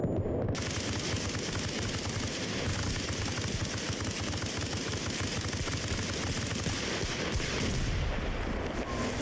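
Gunfire in the military game Arma Reforger, dense bursts and booming reports crowding together into a loud, continuous battle din with no voices over it.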